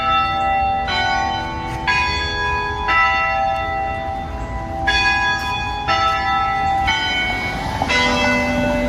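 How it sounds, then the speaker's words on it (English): A church bell tolls repeatedly at a steady pace, each strike ringing out with long overlapping resonance over a continuous low rumble of background noise, with no talking. "Excuse the bell."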